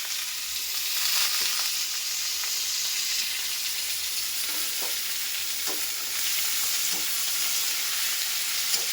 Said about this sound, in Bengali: কড়ায় তেল দিয়ে দিয়েছি। আলুটাকে আগে প্রথমে ভেজে নেব